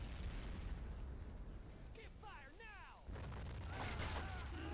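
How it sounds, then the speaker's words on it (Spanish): Rocket fire from a vehicle-mounted launcher in the war game Men of War: Assault Squad, with a pair of whooshing launches in the middle, followed by rumbling battle noise and a later burst of impact. "Ha disparado 2 cohetes."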